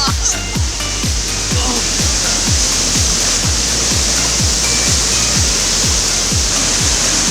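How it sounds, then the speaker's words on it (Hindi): Noori Waterfall near Haripur, falling under heavy water pressure, makes a loud, steady, close roar of rushing water. A regular low thumping pulse runs beneath it throughout. "तो ये खूनी वाटरफॉल है।"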